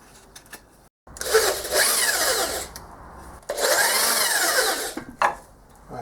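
Power drill used as a reamer on a metal casting, two loud sustained bursts of whirring and grinding separated by a short pause, close up with no talk.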